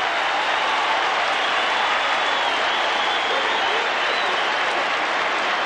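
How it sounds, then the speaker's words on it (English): Stadium crowd at an NFL football game between the Philadelphia Eagles and Buffalo Bills roars and cheers after a long run to the 21-yard line, a loud, dense, sustained wall of noise that fills the whole stretch. "The crowd loves it."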